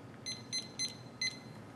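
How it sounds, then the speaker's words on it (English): A deep-fat fryer timer sounds four short, high electronic beeps in quick succession, clear over a quiet background hiss, in a kitchen where chips are fried. "And then set your timer"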